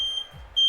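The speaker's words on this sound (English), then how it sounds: "a bit of a fire alarm." Smoke-style fire alarm giving high, piercing electronic beeps that cut in and out at the start and end of a short stretch, heard indoors with no talking.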